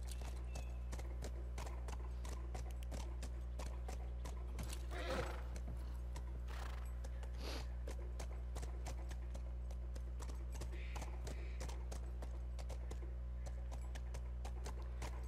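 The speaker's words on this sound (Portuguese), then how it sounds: "Mas esse cavalo é louco, velho." Horse hooves clip-clopping in a steady galloping rhythm throughout, with an occasional whinny, from a horse in The Last of Us video game, over a constant low hum of game ambience.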